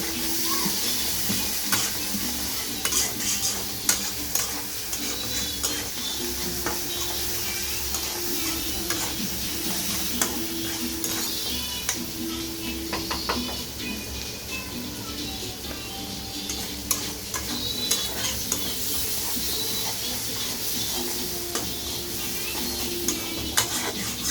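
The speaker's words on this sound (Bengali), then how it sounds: "আমার পেস্টটা মোটামুটি ভালোই ভাজা হয়েছে" Spice paste with cardamom sizzles as it fries in a large kadai, a steady crackling bed broken by frequent scrapes and clinks of a spoon stirring against the metal, heard close up without talk.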